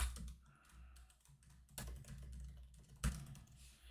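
Keys clattering on a computer keyboard as code is typed into a notebook cell, soft irregular taps with a couple of sharper key strikes, close and quiet with no talking.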